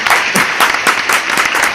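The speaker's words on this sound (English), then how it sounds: "Black people, round of applause." Short round of applause with distinct, uneven clap bursts from a small group, fairly close and loud, with no talk over it.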